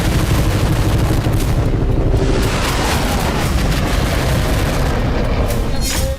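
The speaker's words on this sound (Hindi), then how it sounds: "हमारी तोपों, टैंकों और लड़ाकू जहाजों की ये गर्जना ही भारत की शक्ति है।" Artillery guns and Arjun tanks fire in a continuous loud roar of booming blasts and rumbling gunfire, sustained with no pauses and no voices.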